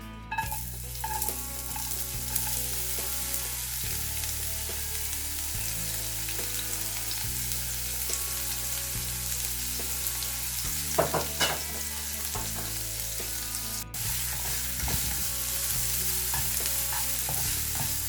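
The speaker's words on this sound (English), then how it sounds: "Now add the capsicum, chopped and chopped onion." Chopped capsicum and onion frying in a little oil in a pan, with a continuous close sizzle and repeated scraping and stirring strokes of a utensil throughout, and no voices.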